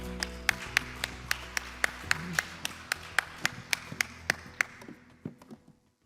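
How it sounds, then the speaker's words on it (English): Audience clapping at a Korea–Singapore future mobility seminar: a run of crisp, evenly spaced claps at a steady beat that thins out and fades near the end, with no talking over it. "Let's give him a round of applause."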